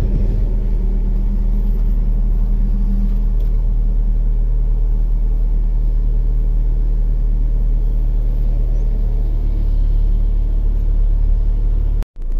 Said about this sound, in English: the car's been sitting here idling for like 10 or 15 minutes now